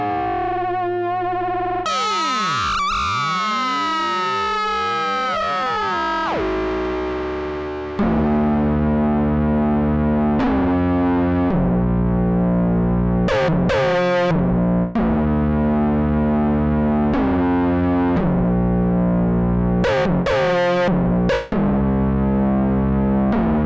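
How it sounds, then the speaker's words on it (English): Korg ARP 2600 synthesizer played through its built-in dual real spring reverb units: sweeping, swooping electronic tones give way to a repeating distorted, buzzy sequence of stepped notes with splashy metallic reverb bursts, loud and unbroken without talk. "let's now engage the dual spring reverb units, and these are real spring reverbs inside this"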